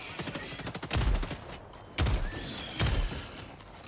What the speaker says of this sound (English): Shoot him.